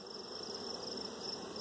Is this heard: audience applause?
no